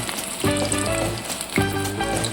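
Egg fritters fry in hot oil, a dense crackling sizzle close up that swells twice as pieces are turned or added, with steady bubbling between the bursts.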